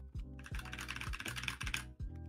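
Computer keyboard typing heard up close as quick, steady clacking keystrokes with a few heavier thumps at regular intervals beneath, and no talking.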